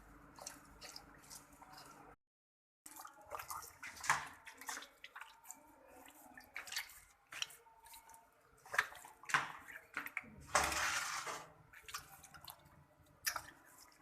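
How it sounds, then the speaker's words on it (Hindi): Cleaned ojri (tripe) is washed by hand with water, giving quiet irregular splashes, squishes and drips close to the microphone, with a brief silent gap near the start. "अब इसे हम पानी से अच्छी तरह से धो लेंगे"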